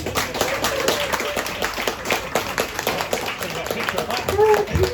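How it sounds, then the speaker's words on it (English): Audience at a comedy show claps after a set, lively uneven clapping close by with voices and cheering mixed over it. "Give a round of applause, guys."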